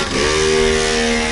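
A homemade scooter engine revs hard during a speed test, a loud, steady buzzing drone with a tone that climbs briefly and then holds, close by and without talk.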